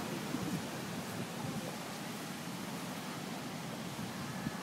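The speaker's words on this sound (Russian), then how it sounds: "Волны." Ocean surf on a beach on Maui, Hawaii, a steady, even hiss of breaking waves with no clear swells, soft and continuous, and no voices.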